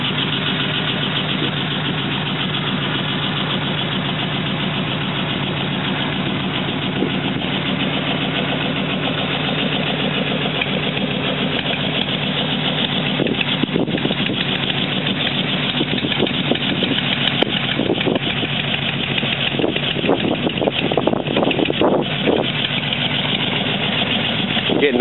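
A 1941 Ford Super Deluxe two-door sedan idles steadily through its dual exhaust, a continuous mid-pitched engine rumble heard alone, with light ticking and knocking textures over the last several seconds.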